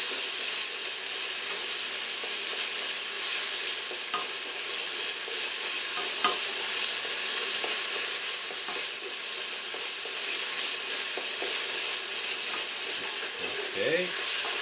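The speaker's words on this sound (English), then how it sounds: "fry off the tomato paste a little bit" Tomato paste fries and gets stirred in a pan, a steady loud sizzle filling the whole stretch with occasional scrapes and clinks of the utensil, no talking.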